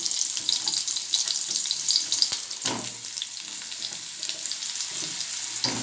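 Potatoes and pointed gourd fry in a pan with a continuous bright sizzle, punctuated by occasional stirring knocks and scrapes, heard up close.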